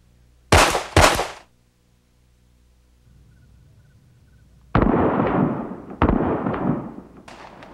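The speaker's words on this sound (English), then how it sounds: "This time give me 2 headshots, Bill." Two sharp handgun shots ring out close together during a low-light shooting drill, double-tapping a target's head, with quiet gaps and then a loud, reverberant burst of impacts and echoes afterward.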